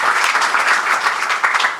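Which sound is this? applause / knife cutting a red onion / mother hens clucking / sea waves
applause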